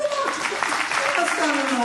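An awards-ceremony audience at a household worker awards event claps in a brief, moderately loud burst, with voices mixed into the applause.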